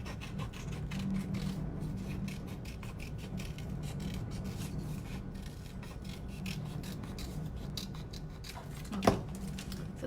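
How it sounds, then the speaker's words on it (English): Scissors cutting through card, a continuous rasping, scraping rub close by for about ten seconds, with one brief sharper snip near the end. "now just take your scissors and cut it"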